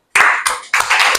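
Audience of students applauding in a classroom setting, a short burst of clapping with a brief dip midway before swelling again, fairly loud and close.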